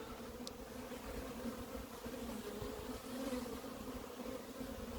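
A honeybee swarm buzzing around a hive at an apiary, a dense continuous drone of many wings, steady and moderately faint, with no voices.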